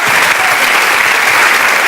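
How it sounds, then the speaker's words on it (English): A studio audience at a BBC Asian Network live radio event breaks into loud, steady applause, dense clapping sustained throughout without a pause. "a round of applause for the Peoply Live trailer"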